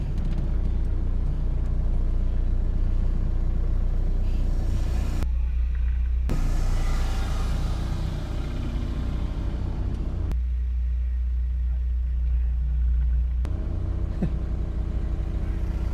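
A Caddy micro camper van grinds along rough off-road ground, its engine a steady loud rumble with heavy low-end noise throughout, broken by a few abrupt cuts.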